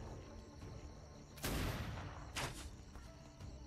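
Ship cannon fire in the game Atlas: two heavy booming blasts over a constant noisy background, the first louder and longer, the second shortly after.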